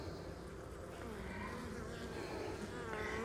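A steady, dense hum of honey bees buzzing inside a winter beehive while the frame with the laying queen is inspected, continuous and fairly close, with faint talk in the background.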